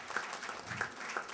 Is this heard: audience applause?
yes